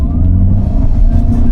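A Toyota Veloz Hybrid in power mode accelerates hard, a loud, close, steady engine and road rumble holding throughout with no talk over it.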